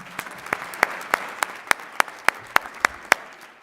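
Sparse applause for presenters at a downtown Denver leadership program event: about a dozen separate, evenly spaced sharp claps over a soft room background, fairly close and moderately loud, with no talking.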